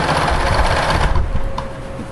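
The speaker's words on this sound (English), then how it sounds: "And I will be sewing to the bottom of that fold." A sewing machine stitches along the bottom of a fabric fold on a cutting table organizer, a loud continuous motorized whir close to the mic that eases off near the end.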